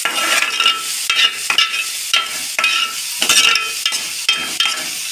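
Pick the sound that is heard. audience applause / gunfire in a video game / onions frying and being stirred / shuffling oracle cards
onions frying and being stirred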